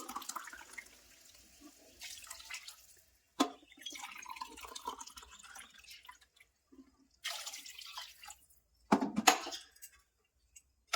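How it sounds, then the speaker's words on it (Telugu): Water poured from a glass onto rice in a pot for cauliflower biryani, heard as intermittent splashing and trickling pours with short pauses between them, moderately close and without talk. "గ్లాసున్నర మూడు గ్లాసుల వాటర్ వేసుకోవాలి"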